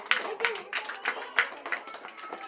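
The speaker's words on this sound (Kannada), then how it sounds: "ಎಲ್ಲರೂ ಅವರಿಗೆ ಜೋರಾಗಿ ಚಪ್ಪಾಳೆಯನ್ನು ಹಾಕಿ" Children clapping at a school assembly to welcome the headmaster, a scattered run of light, uneven claps with faint background chatter.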